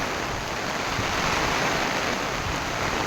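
Heavy monsoon rain pours down in Mahabaleshwar, water streaming off a jackfruit tree, a dense, steady, loud hiss of downpour filling every moment with no letup and no voices.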